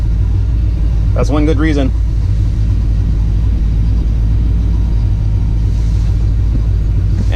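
An LS-swapped Chevy C10 truck idles after a cold start, a loud steady low rumble close by, running continuously while someone speaks briefly over it.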